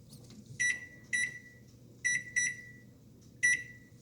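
A kitchen timer chirps five short, bright electronic beeps at irregular spacing as its buttons are pressed, over a quiet low room hum, with no talking.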